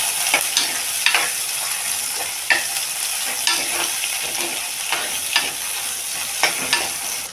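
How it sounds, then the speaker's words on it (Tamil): Small onions, green chili and crushed garlic fry in a pan for a Sri Lankan dried fish curry, giving a steady close sizzle broken by repeated scraping stir clatters, with no talk. "சின்ன வெங்காயம், பூண்டு இடித்து வச்சுக்கணும். இது கொஞ்சம் நல்லா வதங்கட்டும்."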